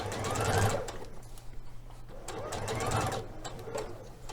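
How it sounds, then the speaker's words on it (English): A sewing machine stitches slowly around the crotch curve of Liberty London Florence palazzo trousers in two close, moderate runs with a brief slowdown between them, and no talk over it. "Just sew slowly around that crotch curve."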